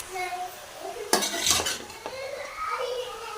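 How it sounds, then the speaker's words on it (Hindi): A utensil stirs grated carrots into a little hot oil in a pot for carrot halwa, giving a couple of sharp metallic scrapes and clinks over a soft background sizzle. "तो इसमें हम डालेंगे अपनी गाजरें। तो इसको करेंगे अच्छे से मिक्स।"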